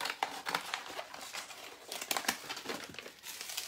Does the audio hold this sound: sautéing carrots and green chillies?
no